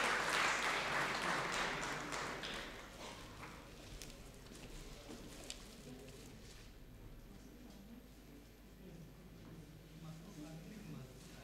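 Audience clapping at an international mushaira poetry gathering in Pune swells loudly at first, then fades into scattered claps while a voice speaks over the hall ambience.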